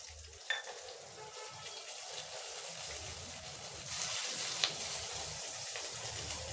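Chopped onion sizzles in a hot pan over a high flame, a steady crackling fry that grows louder partway through, close and alone with no talk.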